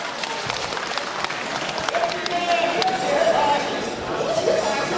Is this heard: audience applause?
yes